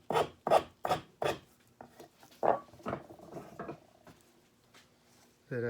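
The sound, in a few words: spokeshave taking fine shavings from wood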